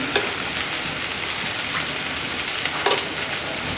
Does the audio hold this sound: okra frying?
yes